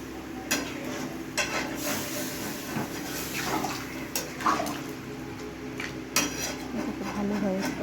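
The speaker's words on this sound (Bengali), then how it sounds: "এখন আলুটা যাতে সিদ্ধ হয় একটু জল দিয়ে দেবো" Water is poured into a pot of village-style desi chicken curry with potatoes, followed by clinking of a spoon against the pot and soft stirring splashes, fairly quiet and close.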